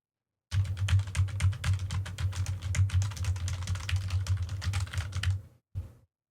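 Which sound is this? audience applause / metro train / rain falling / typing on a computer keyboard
typing on a computer keyboard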